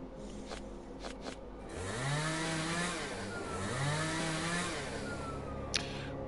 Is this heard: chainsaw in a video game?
yes